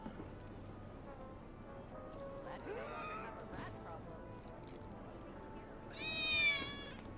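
A cat in the video game Final Fantasy VII Remake gives two short meows, one in the middle and a louder, higher one near the end, over a faint game background ambience.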